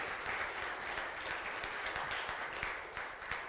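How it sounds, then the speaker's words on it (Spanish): A church congregation applauds steadily, with many hands clapping together in a sustained, moderately loud burst that tapers slightly toward the end. "Démosle un buen aplauso al Rey de Reyes, Señor de Señores."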